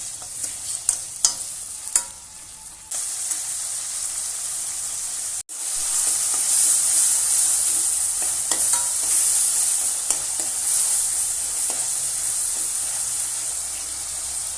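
Onion, tomato and garlic sautéing in a pan for a village-style fish curry, a steady loud sizzle after a few light stirring knocks, with occasional scraping under it and no talk.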